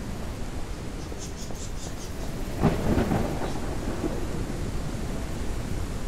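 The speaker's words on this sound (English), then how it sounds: "it's got to be that storm that made it so dark" Storm in the KeepUp Survival video game: steady rain hiss with a low rumble of thunder swelling midway, a few faint high chirps early on, no voices.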